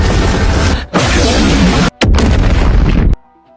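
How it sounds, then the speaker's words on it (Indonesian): A massive film explosion from Godzilla's heat ray roars loudly, with a dense rumbling blast that breaks off briefly, surges again and then cuts to near silence. "Malah menyemburkan sinar panas yang ledakannya lebih dahsyat dari bom nuklir."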